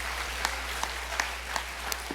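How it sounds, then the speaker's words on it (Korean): A church congregation at a Sunday afternoon worship service claps in applause, a dense, steady patter of many hands with a few sharper claps standing out, no voices. "다시 한번 영광의 박수 올려드리겠습니다."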